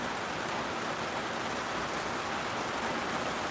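Rain falls in the video game The Good Life, an even, unbroken hiss of downpour with no variation in level across the whole stretch.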